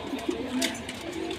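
Imported German Dilbar pigeons coo softly in a loft, a few low throaty coos close by against a light background hiss.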